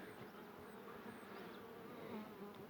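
Honey bees humming at a hive that has a warm pillow under its roof, a steady, dense buzz of many insects close by that carries unbroken for the whole stretch, with no voices.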